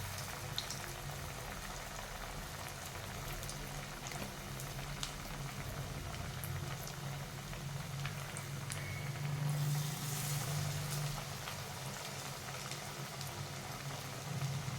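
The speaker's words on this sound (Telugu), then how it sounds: "ఆయిల్ వేడైంది, ఒక్కొక్కటి ఇలా వేసుకోవాలి." Masala vada fritters sizzle steadily in hot oil, giving a continuous bubbling, crackling hiss that stays fairly quiet throughout, with no talking.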